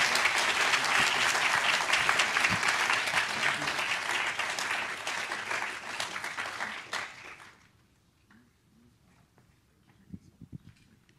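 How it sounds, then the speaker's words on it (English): Warm, sustained applause from a lecture ceremony audience for a life sciences prize lecturer fills the room, dense and even before fading out, leaving near silence with a few faint knocks. "Let's give Professor Cramer a warm round of applause."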